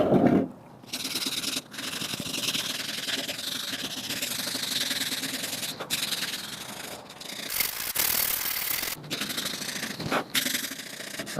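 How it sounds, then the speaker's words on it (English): Sanding an oak rocking chair by hand, working with the grain: long, continuous, gritty rubbing strokes close to the microphone, with a few brief pauses between passes and no talking. "Why are you sanding it?"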